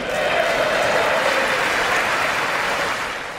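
Applause fills a chamber during a presidential State of the Union address in the US Congress, a dense steady clapping of a large audience that fades slightly at the end.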